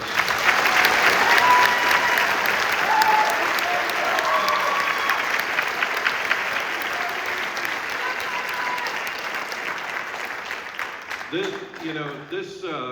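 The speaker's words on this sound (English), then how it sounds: "Let's give them another round of applause" Sustained applause from an audience in a high school auditorium after an all-district honor band performance, steady and full for about eleven seconds before a voice begins speaking near the end.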